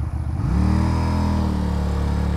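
A QJ Motors SRV 300 motorcycle ridden on the road in Romania: its engine starts with a rough pulse, then settles into a loud, steady drone that stays close and up front throughout, with no talking.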